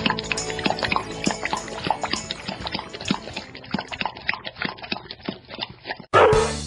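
Dog lapping water: rapid, rhythmic wet laps and drips going on for several seconds, followed by an abrupt louder sound at the end.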